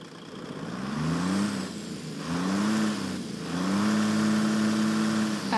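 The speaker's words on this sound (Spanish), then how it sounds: "Vamos a prender el motor." A Kenworth T-800 truck engine in American Truck Simulator, heard in three successive surges, each a rising diesel rev that settles, the last holding into a steady idle hum; no voices.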